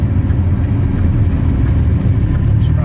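A Dodge Viper's V10 engine drones loud and close from inside the car, a dense low rumble that pulses steadily throughout, with no talking over it.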